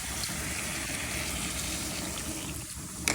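Water poured into a pan of prawn and mixed-vegetable curry, a steady, close gushing splash that runs unbroken throughout, with no speech.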